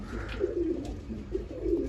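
Pigeons coo just after being given grain and water, low soft cooing calls repeating close by over a faint background hum, with no talk.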